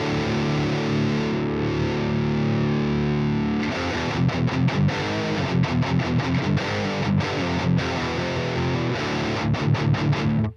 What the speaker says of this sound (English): Now we're getting that distortion that I was kind of looking for.